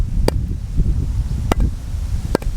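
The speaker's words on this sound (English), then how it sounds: "Here's the sound of very moist wood." Freshly cut, moist firewood from a recently felled tree being struck: three sharp, dull knocks spaced about a second apart, close and distinct over a steady low rumbling background.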